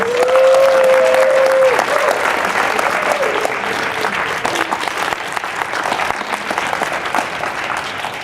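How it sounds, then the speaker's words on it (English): Loud, sustained audience applause at a web demo day fills the room, with a brief whistle-like tone near the start and the clapping tapering slightly toward the end. "Give them another round of applause"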